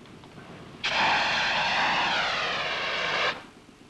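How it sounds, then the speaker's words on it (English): A dry powder fire extinguisher discharges onto a petrol fire fed by a leak running down corrugated iron, a loud whooshing roar lasting about two and a half seconds between quieter background noise. "That was a dry powder extinguisher."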